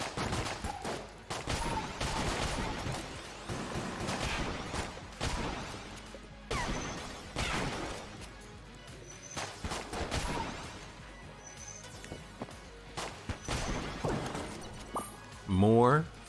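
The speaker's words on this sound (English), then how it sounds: "the bullets I'm firing from Vorpal Gun, they're just a means to an end" Vorpal Gun firing bullets in Enter the Gungeon, a rapid, dense stream of shots and impact cracks running almost continuously under a player's talk, with busy game effects throughout.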